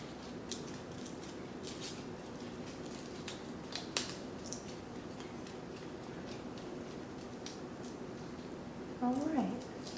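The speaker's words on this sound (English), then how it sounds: "It helps if you use this part of your scissors here to cut" Scissors snip through folded paper to make a paper snowflake, with quick, close, sporadic clicks and cuts. A person talks throughout.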